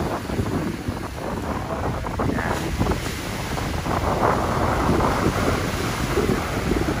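Waves breaking and washing along the shore of Manila Bay near geotubes, with steady gusty wind buffeting the microphone throughout, loud and continuous with no talking.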